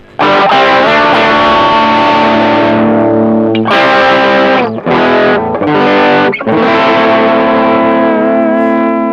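An electric guitar rings out through a Suhr Riot distortion pedal, thick sustained chords and notes played loud and alone, with short breaks between strums.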